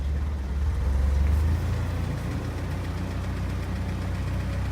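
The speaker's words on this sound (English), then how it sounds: "this is just the truck idling" A Scout 80 truck engine idles steadily in low gear, a deep, even rumble with a slight rise in loudness early on before settling back to a constant low idle, with no talking over it.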